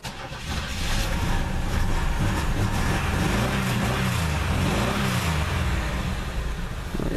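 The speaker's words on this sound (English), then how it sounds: "Well, I guess I could fire it up for y'all." An old $100 demolition derby car cranks over and fires up, then runs with a loud rough rumbling engine and uneven revving, close by and dominating, with no clear speech.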